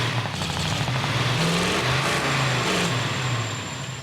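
Truck engine revving loudly and steadily in the video game Warzone, Caldera map, pitch rising and falling, with faint rapid gunfire crackling in the background.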